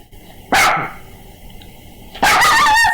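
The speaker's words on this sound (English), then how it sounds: "She's like literally barking at my face." Two loud, sharp dog barks close by, separated by a short pause.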